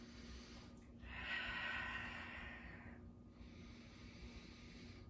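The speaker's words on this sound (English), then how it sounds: "Big, deep breaths" A yoga practitioner takes a big, deep breath, heard as one soft, airy inhale-exhale that swells and then fades in an otherwise quiet room.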